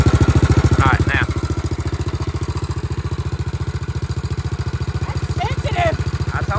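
Vintage Honda XL250 dual-sport motorcycle engine running at a steady, rapid chugging idle, close and continuous, with brief voices speaking over it near the start and end.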